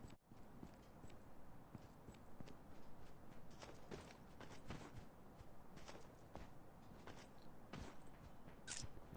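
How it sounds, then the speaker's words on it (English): Faint, quick footsteps tap in a Call of Duty Mobile battle royale match, a scattered series of soft ticks over a low, steady background hum. "I guess I can hear some footsteps."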